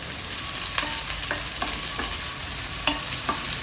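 Spices sauté in hot oil in a pan for an eggplant curry, a steady close sizzle broken by regular scraping stirs of a spoon, with no voices.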